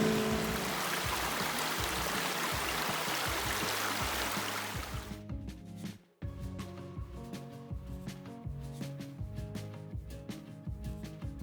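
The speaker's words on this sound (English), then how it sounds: "it started pouring rain" Steady broadband wash of heavy rain for about five seconds, then it drops away, leaving softer dripping and patter with occasional taps, heard from a dinghy.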